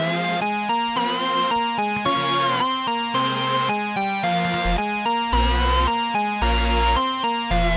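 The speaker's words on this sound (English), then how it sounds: "I know that there are chords behind this melody supporting the lead" Steady synthesizer chords play behind a lead melody in a mix, rhythmic chord changes repeating every second or so, bright and continuous throughout.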